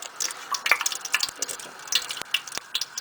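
Whole spices sizzling in hot ghee for a chicken karahi, with a spoon scraping and stirring the pot: crackly spitting and small clinks, close and fairly quiet, no talk.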